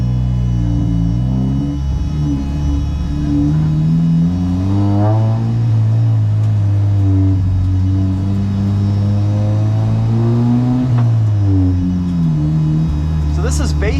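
A stripped Honda Civic Si FE1 race car on track, with a turbocharged inline-four, six-speed manual and Bridgestone Potenza RE-71RS tires, drones loud and close. Engine pitch climbs and drops through repeated gear changes.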